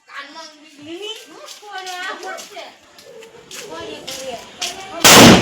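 A Diwali firecracker goes off as one sudden loud blast at the very end, after a stretch of children and adults chattering nearby.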